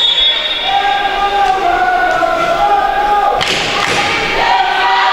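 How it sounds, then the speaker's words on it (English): St. Mary's Rattlers fans chant and cheer loudly in a gym during a college volleyball match against TAMUK, sustained voices rising and falling with a few thuds of play underneath. "you can hear the Rattler crowd trying to rally St. Mary's back into this one"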